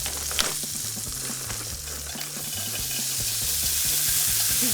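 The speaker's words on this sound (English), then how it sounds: "You're going to hear some sizzling. I threw in a couple of kernels to see if the oil was hot enough." A few corn kernels sizzle in hot oil in a pan while making Mexican street corn, a steady, fairly faint crackling hiss that gradually grows louder, with no talking.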